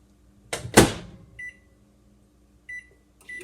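A microwave oven warming marshmallows for popcorn balls: a loud door clunk and latch, then brief beeps of the keypad and a later pair of beeps, with a faint hum between, no talking.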